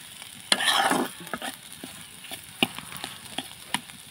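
Mashed potatoes cooking with spices in a pan are stirred, giving sharp scraping strokes and a brief burst of sizzling near the start, then scattered lighter stirring clicks over a quiet background.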